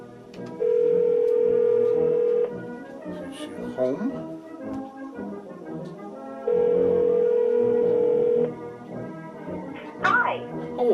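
A telephone ringback on an outgoing call repeats twice, each ring a steady tone lasting about two seconds and separated by a pause, with a person talking quietly between the rings.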